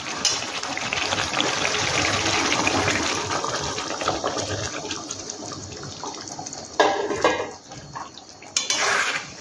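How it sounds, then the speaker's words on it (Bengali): Water poured into a pan of chicken cooked in homemade curd batter with fried potatoes, a long rushing splash over bubbling oil that fades, followed by two shorter bursts of pouring. "এবার এখানে জল দেব, দিয়ে এখানে মিনিট 10 মতো ফুটতে দেবো।"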